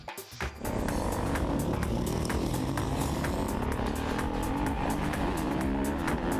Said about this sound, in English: You hear that little 85cc two-stroke.